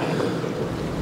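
Strong wind on a blustery day roars steadily and loudly across the microphone, with a rushing, buffeting quality and no speech.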